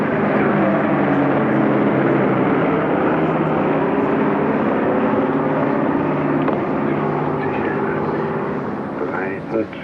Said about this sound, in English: I count the planes that come to Tempelhof.